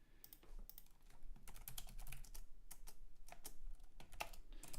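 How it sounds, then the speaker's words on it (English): Rapid clicking of a computer keyboard during an online rapid chess session, steady clatter of keystrokes close to the microphone with no voices. "So I don't know why I'm typing in the chat."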